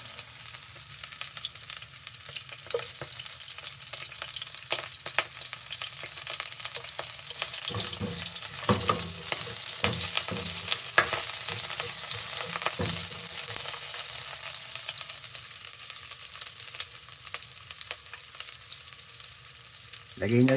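Garlic and onion sizzle steadily in hot oil in a pan for a Filipino mussel dish, with occasional stirring scrapes and crackles over a continuous frying hiss.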